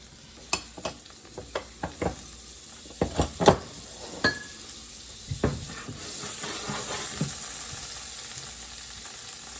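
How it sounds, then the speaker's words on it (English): A tablespoon of butter melts over medium heat in a pan, starting with a run of sharp clicks and taps from the utensil and pan, then easing into a rising, steady sizzle and hiss. "I'm going to add some butter into this. We're keeping it over medium. Melt 1 tablespoon of butter."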